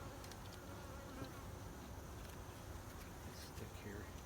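Honeybees buzzing around a hive during sugar-water feeding, a faint, steady, dense drone with no break, heard from close by amid soft outdoor noise.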